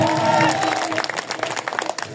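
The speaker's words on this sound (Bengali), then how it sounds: "স্যারের জন্য আরেকবার করতালি হয়ে যাক।" An audience at a stage event claps for a guest of honour. A voice is heard briefly at the start, then a dense burst of applause follows.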